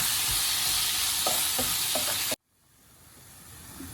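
Chopped tomatoes and coriander leaves sauté in a hot pan, a loud steady sizzle with a few stirring scrapes before the sound cuts off abruptly, leaving a faint quiet hiss.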